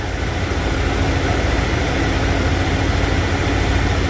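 A 1992 Ford F-150 pickup's 5.0-litre 302 V8 idles steadily with a deep, rumbling straight-pipe exhaust, continuous and close, with no voices.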